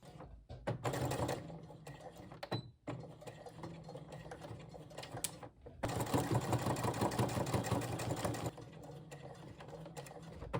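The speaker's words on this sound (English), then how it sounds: "sew over this seam once again and make sure to backstitch every time you start and stop" A sewing machine runs over the seam of a boxy fabric makeup bag in two long bursts of rapid, steady stitching, with a brief pause and short stop-start runs for backstitching in between.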